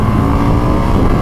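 A 2019 Indian FTR 1200 S motorcycle on a small back road, its engine roaring loud and steady in a dense low rumble while riding hard through a gear change.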